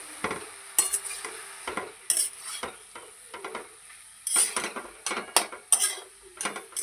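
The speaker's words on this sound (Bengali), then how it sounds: "এবার নেড়ে চেড়ে মিশিয়ে দেবো সবের মধ্যে" Stirring mustard paste into pumpkin greens in a cooking pan, a series of irregular scraping and clinking strokes of a utensil against the pan over a faint sizzle, close by.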